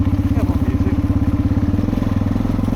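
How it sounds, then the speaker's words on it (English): An off-road motorcycle on a trail chugs with a rapid, uneven low pulsing as the engine bogs down, loud and close with no talking. "I was trying to get the bike going there. For some reason it bogged down completely."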